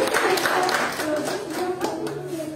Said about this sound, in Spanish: Aplausos para Didier.